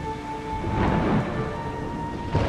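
Thunder rumbles low and rolling over steady, heavy rain in the video game Macrotis: A Mother's Journey, a sustained storm wash with no voices.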